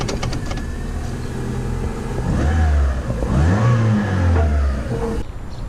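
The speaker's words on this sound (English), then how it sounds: "And you can see the precision of the gas pedal." A Holden HQ car engine revving as the gas pedal is pressed, close and loud, rising and falling through several throttle blips over a steady idle before cutting back near the end.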